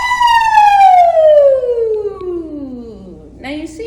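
A voice imitates a fire engine siren during a breathing exercise, one long, loud, close wail gliding steadily downward from high to low pitch as the breath runs out.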